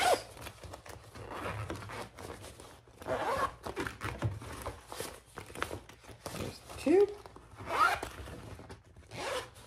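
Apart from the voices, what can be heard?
zippers on lined bag pockets opening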